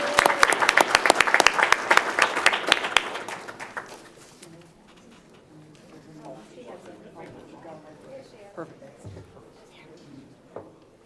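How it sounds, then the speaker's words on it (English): Loud applause from a crowd at a Westland city council meeting for about four seconds, then fading into scattered murmuring voices and low room noise. "a round of applause for our wonderful students"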